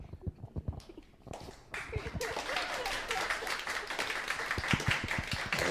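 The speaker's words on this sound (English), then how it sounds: "Liszt will be very happy if you applaud him." Applause from a piano recital audience at Klavierhaus in New York breaks out after a few scattered claps, swelling into a sustained, fairly soft wash of many hands that continues steadily to the end.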